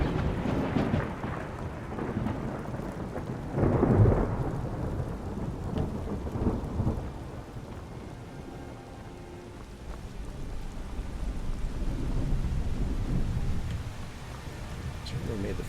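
A thunderstorm in the video game Skyrim, with steady rain hissing throughout and deep rolls of thunder rumbling and swelling at intervals, the loudest burst early on, all fairly close and sustained.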